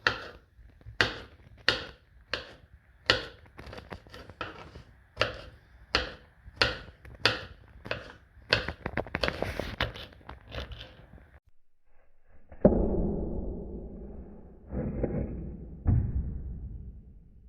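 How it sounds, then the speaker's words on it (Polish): A knife slices through pineapple on a board in a steady run of crisp, close chops, about a dozen evenly spaced cuts, followed by duller rustling and a thud as the pieces are moved. "I teraz pokroimy sobie nasze ananasy."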